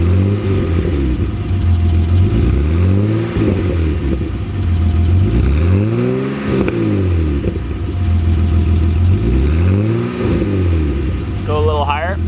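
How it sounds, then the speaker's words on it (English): A 1989 BMW E30 325ix with a newly fitted exhaust revs loud and close, the engine note climbing and falling in three repeated sweeps over a steady idle rumble, with brief voices near the end. "So we're gonna have Morgan give us some little revs here so we can hear what the exhaust sounds like"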